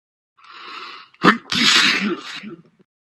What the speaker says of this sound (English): I sneezed a great sneeze.